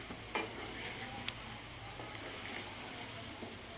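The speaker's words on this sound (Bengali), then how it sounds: "যখন বেশ বড় হয়ে গেছে তখন আমি গ্যাসটা আস্তে আস্তে বাড়িয়ে দিয়ে ভাজতে থাকবো" Gulab jamun frying in hot oil on a gas stove, a steady soft sizzle running throughout with a few faint clinks, close and fairly quiet.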